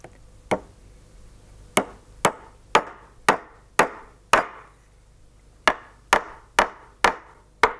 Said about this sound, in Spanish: ahora voy a clavar la pinza con dos punticas para asegurarla bien